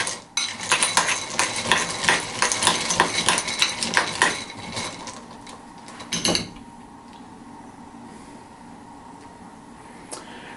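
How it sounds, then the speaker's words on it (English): Quick bursts of a spoon scraping and clinking against a bowl while shortening mixture is stirred, loud, rapid and rhythmic for about four seconds, followed by a quieter knock and light handling noises. "We'll give this a quick stir."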